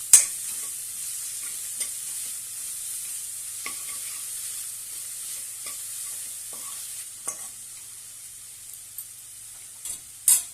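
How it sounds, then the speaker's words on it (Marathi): Chopped fenugreek leaves sizzle steadily in a pan as they are sautéed for methi dal, with occasional soft spoon scrapes and taps over a constant frying hiss, no talking. "यामध्ये मेथी कट करून घेतलेली आहे ती घालूया आणि छानपैकी परतून घेऊया।"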